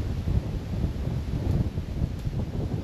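Wind at the Medieval Bishop's Palace in Lincoln buffets the microphone in low, gusty rumbles, continuous and fairly loud, with no voices.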